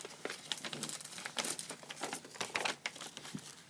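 Paper crinkles and crumples in bursts as a junk journal page is folded and creased, with close, uneven rustling and scraping rising and falling over a few seconds.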